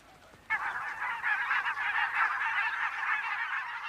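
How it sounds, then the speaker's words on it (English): Barnacle geese honk in a continuous, overlapping chorus that starts abruptly and carries on steadily at close range, with no talking over it. "Some, like barnacle geese, move north to take advantage of the very short but abundant Arctic summer."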